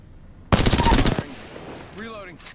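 A short, loud burst of rapid automatic gunfire in a shooter video game, lasting under a second. It cuts off abruptly, then a quieter tonal effect sweeps up and down.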